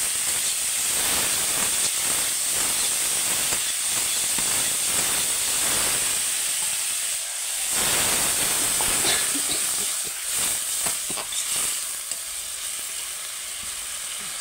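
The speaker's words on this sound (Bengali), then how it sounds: "নিয়ে জল ঢেলে দেবো।" Water poured into a pan of frying okra curry, a loud, steady sizzle and hiss of steam that carries on throughout with small fluctuations as the mixture bubbles.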